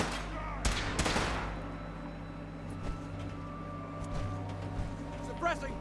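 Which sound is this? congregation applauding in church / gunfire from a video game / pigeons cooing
gunfire from a video game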